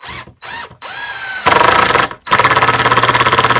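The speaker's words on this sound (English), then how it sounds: "Because I'm using an impact driver" Cordless impact driver sinking a screw into a wooden wall stud, sounding in loud bursts: a few short revving spins, then two sustained hammering runs with a rapid, even rattle, close up with no talk.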